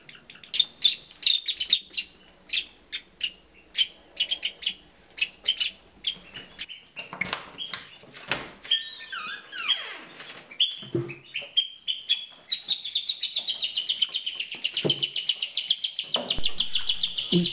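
Kaki (black stilt) chicks in a brooder room give rapid, high, thin chirps and peeps, repeated in quick bursts and growing denser and more continuous toward the end, close and fairly loud with no talking.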